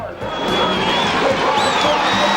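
A big crowd cheers at the NASCAR All-Star race at Charlotte Motor Speedway, a steady loud roar with whoops rising over it, close and continuous for a couple of seconds.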